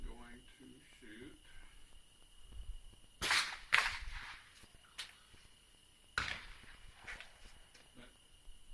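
AR-15 rifle fired outdoors in a few sharp, loud cracks spaced seconds apart, with a voice talking briefly at the start before the shots.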